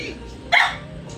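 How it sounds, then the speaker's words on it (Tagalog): A single dog bark rings out sharply over low background noise, one short yelp with nothing following. "May aso."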